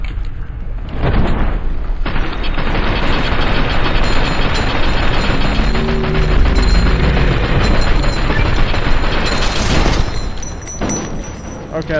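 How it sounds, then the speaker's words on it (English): A shoulder-mounted machine gun firing in Fallout New Vegas, a continuous loud mechanical clatter of rapid shots with booming impacts, running for about ten seconds with brief breaks at the start and end. "Let's do shoulder-mounted machine gun."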